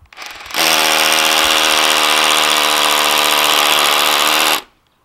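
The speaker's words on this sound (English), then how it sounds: "Now that I feel like I've got it straight and I'm ready, then I apply pressure. It has to have some pressure in order to drill." A power drill bores a bolt hole into rock, a loud, steady high-pitched whine that runs for about four seconds before cutting off.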